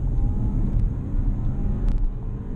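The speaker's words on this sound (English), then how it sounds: "we're going to give it another acceleration here. So we'll accelerate up to 50 miles an hour, since that's the speed limit." An Audi Q5 in dynamic mode accelerates to 50 mph, a steady, loud, low engine and road rumble that holds without a break throughout.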